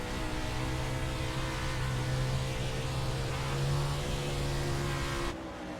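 A 410 sprint car engine held at full throttle during an American All Star season finale race, a steady loud droning roar with sustained harmonic tones that cuts off abruptly near the end.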